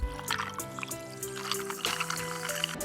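Juice being poured by hand into a small Halloween vampire blood bag, a soft trickling fill with faint sloshing, close and fairly quiet, with a brief voice at the start.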